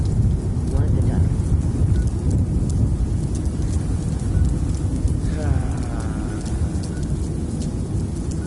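A nuclear storm in the Fallout 76 video game, with a continuous dense roar of rain and rumbling thunder that stays loud throughout, plus faint whooshing swells midway.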